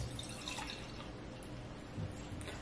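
Wine is poured into a glass in a kitchen before dinner, giving a soft continuous liquid trickle over low background noise.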